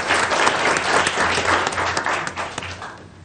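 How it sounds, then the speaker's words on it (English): At a board of education meeting, the audience gives a hearty round of applause for a student being recognized. The clapping is loud and dense at first, then tapers off toward the end. "So if we could just give Jada a round of applause."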